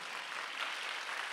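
Church congregation clapping together during a Sunday worship service, a dense, even wash of applause at moderate volume throughout, with no voices over it.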